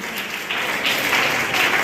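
Loud, dense applause for Uma, a girl winning a prize for her painting at a traditional cultural workshop, steady rushing clapping from a sizable audience that swells slightly after the first half second.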